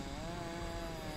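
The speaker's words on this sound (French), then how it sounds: "c'est la tondeuse qui court après le raptor" Lawnmower engine in the LEGO Jurassic World video game, a steady buzzing motor drone that holds at an even level throughout, with no talking over it.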